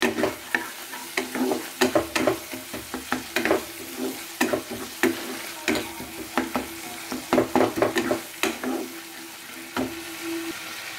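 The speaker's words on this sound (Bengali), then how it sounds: "এইবার লো থেকে মিডিয়াম হিটে রেখে আমি মশলাটাকে ভালোভাবে কষিয়ে নেব।" Spice paste for a pomfret curry, frying and being stirred over low-medium heat: steady soft sizzle beneath repeated sharp scrapes of a spoon against the pan, coming in irregular bursts throughout, close and clear with no talking.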